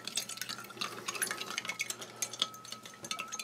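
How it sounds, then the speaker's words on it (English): French army combat ration drink powder stirred into cold water, with a soft, continuous liquid swirl and light clinks of a utensil against the container, close and quiet. "And we'll just give that a mix with some cold water"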